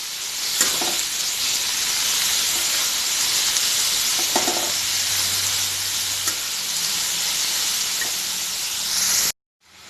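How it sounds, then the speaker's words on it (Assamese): Bamboo shoot stir-fry sizzles steadily in a pan over low gas, a loud, even hiss with faint stirring clicks throughout before it cuts off abruptly near the end. "আৰু একদম গেছটো ল' কৰি পেলাই ভাজি থাকিম অলপ টাইম।"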